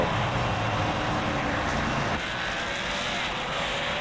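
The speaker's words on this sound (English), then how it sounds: "It's the new ZL1 engine sounds." A Chevrolet Camaro ZL1 roars steadily in a sim racing video game at Dover, with a broad, dense engine drone that holds for the whole stretch, dips slightly partway through and then carries on, with no talking over it.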